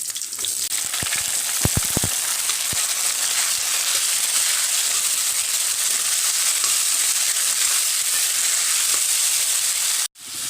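Cubed squash and potatoes hit hot oil already seasoned with green chillies, dried chillies and bay leaves, setting off a loud, steady sizzle and hiss with a few sharp crackles early on, close up, until it cuts off near the end.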